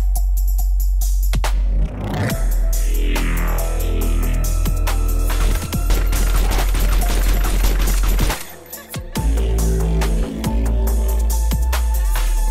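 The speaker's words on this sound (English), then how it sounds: "Guys, come at him, start shooting." Dense, loud gunfire from Arma 3 DayZ Overpoch: rapid bursts and automatic fire, with a brief lull near the end before the shooting resumes over a constant low rumble.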